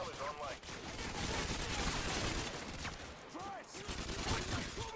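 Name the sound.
gunfire in video game Call of Duty: Modern Warfare 2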